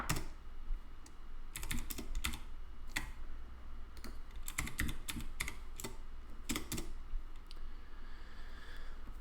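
Rapid bursts of computer keyboard typing during a Clojure programming session, clicks clustering in quick runs with short pauses between, close and fairly loud against a steady low room hum.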